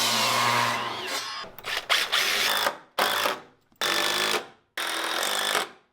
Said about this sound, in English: And then you'll just sink some screws in right here, here, and down there.